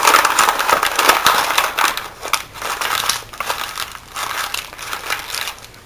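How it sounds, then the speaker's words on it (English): Paper being crumpled into a ball for a Halloween sign craft: close, continuous crackling and crinkling in uneven bursts, with no talk. "I'm going to begin to just crumple it into a ball."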